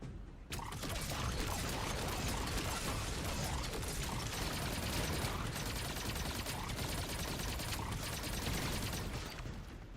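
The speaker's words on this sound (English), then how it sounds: "Oh, there's more cannon." Cannon fire in the video game Destiny 2, a dense, loud, continuous barrage of rattling mechanical bursts that fills the whole stretch without letup.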